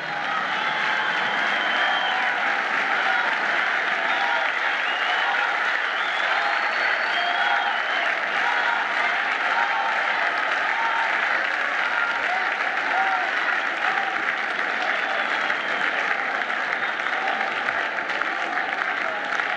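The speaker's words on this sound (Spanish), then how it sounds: "Un fuerte y más cariñoso aplauso" An audience at a comedy festival in Punta Arenas, Patagonia, gives a comedian a long, steady round of dense applause, clapping loudly and evenly for the whole stretch while a voice speaks over it.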